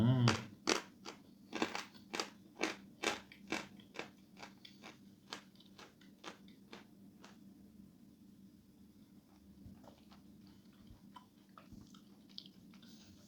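Someone bites and chews clay chalk (glinomel) close to the mic, with a run of sharp, evenly spaced crunches that slow and soften into quieter grinding over a low background hum.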